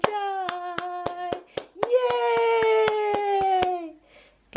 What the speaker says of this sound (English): Clap your tiny hands for joy.